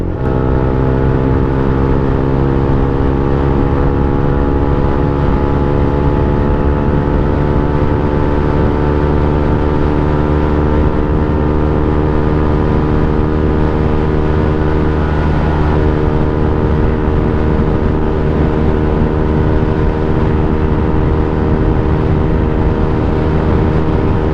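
A Yamaha Sniper 150 motorcycle engine drones steadily while riding on the road between Baler and Casiguran, a loud, continuous hum with close, rising harmonic tones and constant wind roar and no speech throughout.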